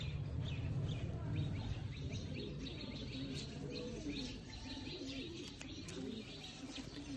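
Several pigeons coo softly and continuously nearby, with occasional chirps mixed into a low outdoor background.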